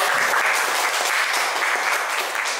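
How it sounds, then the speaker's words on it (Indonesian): Steady applause from a classroom audience fills the whole stretch, dense and continuous clapping at close range with no talking over it. "Oke, kita kasih tepuk tangan untuk semuanya."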